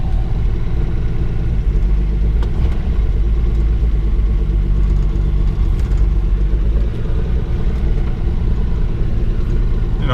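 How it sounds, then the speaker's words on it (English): A 1961 Ford Falcon left abandoned for over twenty years runs with a steady, loud, close-up low engine rumble and idle throughout, with no clear separate starting crank heard. "Turn the key, it fires right up."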